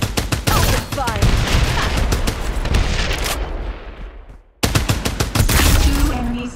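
Rapid bursts of gunfire from the video game Farlight 84 crackle loud and dense, with a brief lull and tail-off around the middle before the firing resumes hard; game voice lines sound briefly among the shots.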